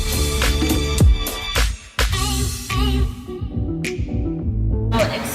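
Kitchen noise while several dishes cook and the oven is on, where a fan kicks in because of the heat; a dense, steady throbbing hum with a brief dip near two seconds, fairly loud and constant throughout.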